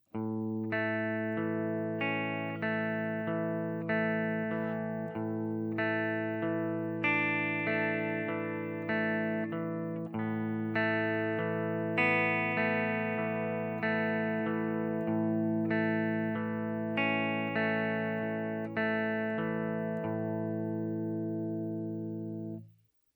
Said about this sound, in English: This will create a simple melody line on the 2nd string while you're playing the arpeggio pattern